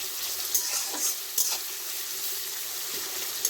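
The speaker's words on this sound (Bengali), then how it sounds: "বেরেস্তার জন্য পেঁয়াজটা লাল লাল করে ভাজা হোক, একটু লাল লাল হোক" Sliced onions fry in hot oil for birista, a steady sizzle with soft stirring and a few brief clinks, close and continuous for a few seconds with no talking.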